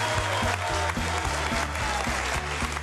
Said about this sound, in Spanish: a Yanina como a Carval y a nuestro Eri, un aplauso para ellos muy, muy grande.